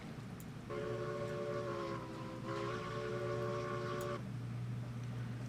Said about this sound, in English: I like how you can hear the whistle but not the bell.